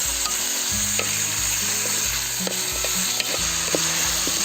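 Pork leg frying in oil with tomato, ginger, garlic and onion gives a loud, close, continuous sizzle, with rhythmic stirring scrapes and occasional clicks of a utensil against the pan.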